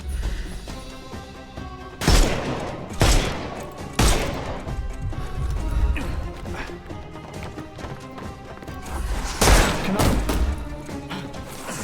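Gunfire in a Sherlock Holmes video game arrives as several sharp, loud shots and bangs spaced irregularly over a busy background of game sound.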